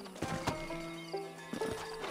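A horse in Red Dead Redemption 2 clops its hooves and gives a whinny, moderately loud, with sustained tonal game sounds running underneath.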